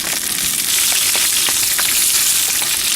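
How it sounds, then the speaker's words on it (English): Meat-filled tacos frying in oil at a campsite give off a loud, dense, continuous sizzle with scattered sharp crackles and pops, and no voices. "I'm just making sure that oil gets kind of down inside the tacos to make sure that meat gets cooked."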